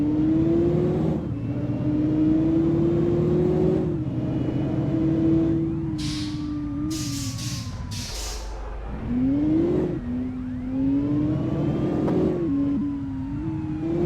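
Volvo 9600s bus engine in a driving video game on a mountain road, revving steadily and loud with rising and falling pitch as it accelerates, dropping briefly to a lower idle before climbing again, with no talk.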